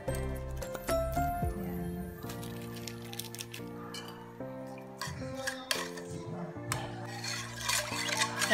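Clinks and scrapes of a utensil stirring pork chop marinade with soy sauce and bay leaves in a bowl, irregular taps and knocks against the bowl close by, with tonal background music running underneath.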